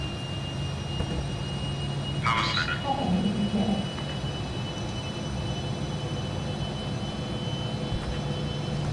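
Classic airliner jet engines spooling up toward takeoff power in a flight simulator game, a steady broad roar with rising whine held throughout, with someone talking over it.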